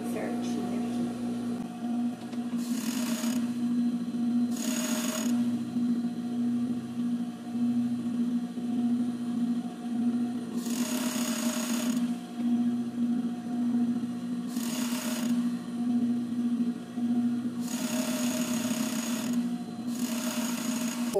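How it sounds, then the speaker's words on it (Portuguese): Sewing machine stitching the shoulder seam of an inside-out basic blouse, a steady close mechanical hum running throughout with short higher-pitched bursts at intervals. "vou começar a costurar aqui a parte do ombro"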